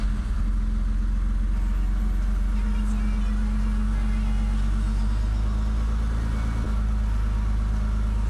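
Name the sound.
BMW M6 engine idling after misfire repair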